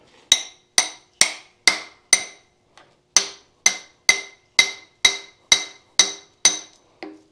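Sharp metallic hammer strikes on a punch driving a shaft out of a 1927 John Deere D tractor's differential, ringing one after another at a steady pace, about fourteen blows with a short pause partway through, close and crisp.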